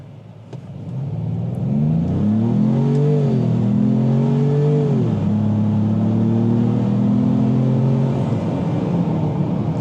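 A 2025 Ford Maverick LOBO pickup in sport mode pulls away, its engine climbing in rising gear-like sweeps then settling into a steady drone, heard from inside the cab at moderate loudness with no talking.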